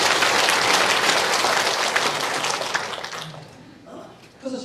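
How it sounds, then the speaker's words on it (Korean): Korean church congregation clapping to give glory to God during a Sunday sermon, a loud full burst of applause that tapers off over the last second, with a voice returning at the close. "그 영광을 하나님께 한번 박수로 영광 돌려볼까요?"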